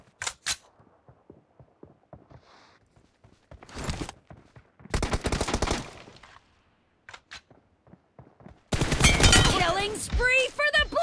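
Video game gunfire in a one-on-one shooter match: sharp single shots and short bursts ring out in scattered clusters, with loud rapid fire near the end, mixed with game voice callouts.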